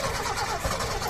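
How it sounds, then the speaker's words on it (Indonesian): A hard-starting Suzuki Espass engine fitted with a JCK TCI ignition unit cranks steadily without catching, a continuous close-up churning of starter and engine noise that holds at an even level throughout. "Nah, agak lama dia diputer gini lama baru dia bisa nyala."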